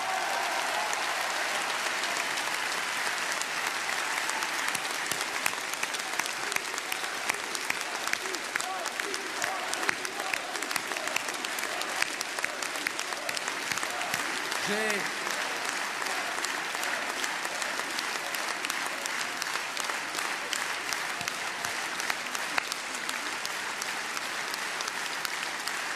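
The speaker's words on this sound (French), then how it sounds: "je vous demande de l'applaudir." Sustained applause from a large crowd at a political rally in Cannes for a right-wing meeting, steady dense clapping for about 26 seconds with faint voices and cheers mixed in.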